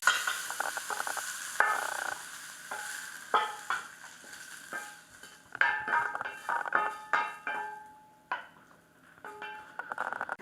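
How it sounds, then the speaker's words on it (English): Cauliflower sizzles and fries in a pan while being stirred and pushed around, with repeated scraping clatters of utensil on metal over a steady, close hiss. "This is what you want to achieve before you begin moving the cauliflower around in the pan"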